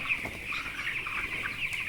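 Broiler chicks on a poultry farm of about 1200 birds keep up a dense, continuous chorus of high, thin peeping, fairly soft and with no one talking.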